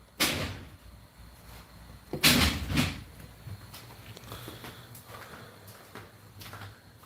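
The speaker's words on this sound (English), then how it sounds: "The cat's standing right underneath the garage door so it won't close" Garage door that fails to close because something blocks it: a loud clunking rumble near the start, then a heavier banging movement about two seconds in, followed by fainter mechanical knocks and rattles.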